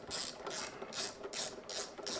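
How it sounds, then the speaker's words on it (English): A ratchet tightens the nut on a washing machine heating element. Six quick bursts of close, loud metallic clicking are separated by brief pauses, with no talking. "now we'll do up the nut"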